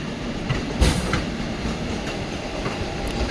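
The Vishwamanava Express passenger train runs from Mysore toward Belagavi, heard from onboard as a steady loud rumble of wheels on rails with a sharp clack near the start and fainter rhythmic clicks after it.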